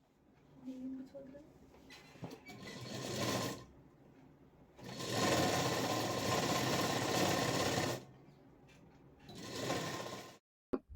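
A sewing machine stitches lining onto a lehenga waist belt, running in three loud sustained bursts separated by pauses, with a faint voice briefly at the start.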